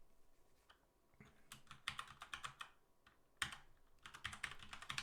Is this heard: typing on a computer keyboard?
yes